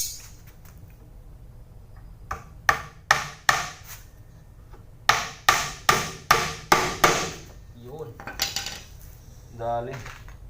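A hammer drives nails into recycled wood while a simple cabinet is being built, making sharp metallic knocks in two quick bursts of several blows each, followed by softer scraping and handling sounds.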